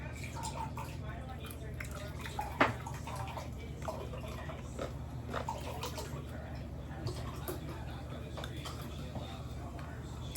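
Liquid pouring, likely a soft drink such as Pepsi, at a home fried-chicken meal: a low, steady trickle with faint drips and one sharp clink, under quiet voices.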